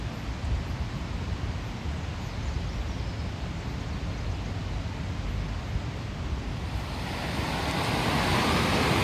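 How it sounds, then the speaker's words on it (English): Rushing water of the Virgin River in Zion National Park, a steady broadband roar heard from a bridge, growing brighter and louder toward the end, with no talk. "And we've got us a raging river right here as we cross the bridge. The Virgin River."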